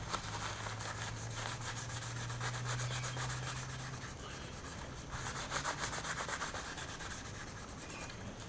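Fine 800 grit sandpaper rubs by hand over the lacquered neck of a Stratocaster guitar, a continuous soft scuffing with a steady back-and-forth rhythm, close and quiet, with no talk.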